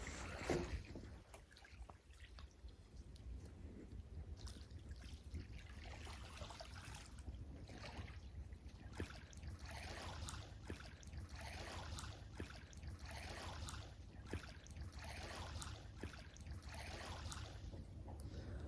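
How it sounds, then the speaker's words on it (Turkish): Sea waves wash gently along a calm shore, giving a steady, faint rushing wash with soft trickling and lapping that runs continuously without talk. "Dalga sesleri çok güzel."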